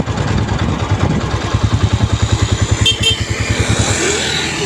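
A Bajaj Pulsar N125 motorcycle, low on petrol, starts and runs with a loud, close, rhythmic engine chugging that steadies briefly, then falters and dies out near the end.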